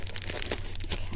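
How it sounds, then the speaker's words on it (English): Cellophane wrapping on a hand-tied flower bouquet crinkling as it is handled, a brief close burst of crisp rustling and crackling. "take the edges of the cellophane down so they don't flap"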